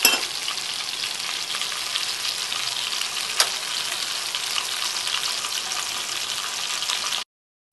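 Village-style chicken fry crackles in a pan with loud, dense, continuous frying hiss and one sharp clink partway through, then cuts to silence near the end.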